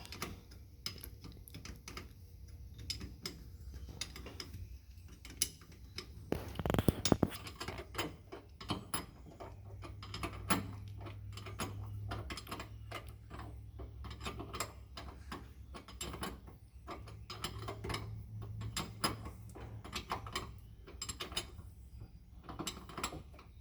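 Bolts on a jack motor are tightened with a ratchet, giving a long run of quiet, fast mechanical clicks near at hand, one louder clunk partway through and a low hum at times, with no talk.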